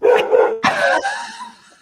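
A dog gives a couple of sharp, loud barks close by, followed by a short trailing whine that fades out.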